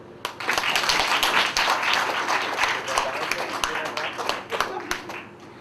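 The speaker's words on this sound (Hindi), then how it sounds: "अभी आप ताली बजा सकते हैं।" Audience applause at a Rajyoga talk, dense continuous clapping from many hands that starts abruptly, stays loud and near, then thins slightly toward the end.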